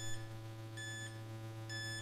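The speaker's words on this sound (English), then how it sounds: "I'm guessing that beeping is just because my battery headset's almost out of battery." A low-battery warning from an FPV video headset used with a quadcopter head-tracking gimbal, heard as faint, high, evenly spaced beeps about once every second under a steady electronic hum.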